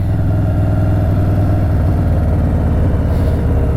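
Stage II Harley-Davidson Softail Street Bob with FXR fairings, its V-twin engine rumbling loud and steady at idle with a deep, lumpy low-end pulse throughout, no talking.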